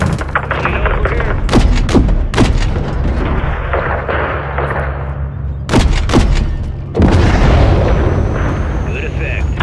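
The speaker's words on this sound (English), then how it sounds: "Gunner, lay down cover fire." Cover gunfire and heavy explosions from the Call of Duty Modern Warfare 3 video game: loud repeated booming blasts and sharp shots over a constant rumbling battle bed, with voices talking through the action.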